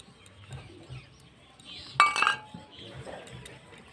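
Small bowls clinking against each other while being greased with oil for steamed kheer bhapa pitha, a short bright clatter in the middle of an otherwise quiet kitchen with soft background sounds.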